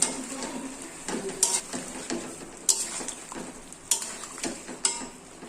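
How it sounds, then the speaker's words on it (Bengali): A spice paste sautéed in a pan, crackling and sizzling while a spoon scrapes and knocks against the metal in repeated strokes every second or so. "মশলাটা আমি দিয়ে দিয়েছি, এবারে এটাকে ভালো করে কষে নেব"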